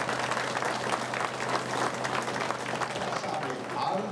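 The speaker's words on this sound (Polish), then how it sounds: "Pogratulujmy, oklaski, brawa, serdeczne." Crowd applauds at an outdoor awards ceremony for a stage of a Polish international cycling race, dense clapping throughout with a loudspeaker voice faintly running underneath.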